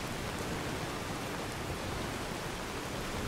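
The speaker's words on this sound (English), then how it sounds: "that's proper rain." Steady, dense rainfall in the Skyrim VR video game, a soft uniform hiss of drops with no pauses and no voices, heard at a low, even level throughout.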